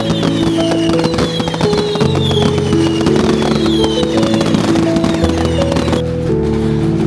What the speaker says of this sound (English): As the wedding drums and fireworks began, the entire neighborhood knew that there was a happy celebration happening that day.